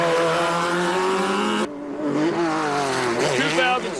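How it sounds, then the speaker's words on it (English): Class 10 off-road race cars with 2,000cc engines at the 2008 Mint 400 rev hard and pull away, a loud, sustained engine roar whose pitch drops and then climbs again as they accelerate. "Listen to the RPM when they take off, Ken."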